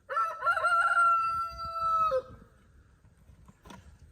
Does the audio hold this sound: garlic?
no